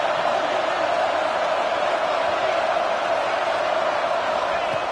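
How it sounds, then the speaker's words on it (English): Roaring football stadium crowd at a Georgia vs LSU game, a loud, constant dense wall of cheering and shouting throughout. "listen to this crowd noise. This stadium is vibrating."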